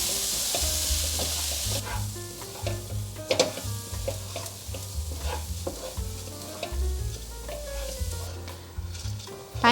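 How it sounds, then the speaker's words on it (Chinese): Washed white rice being stir-fried over medium-high heat with seasoning, a soft steady sizzle broken by repeated scraping and tossing of a spatula in the pan. "白米先炒一炒，这样子会比较香。"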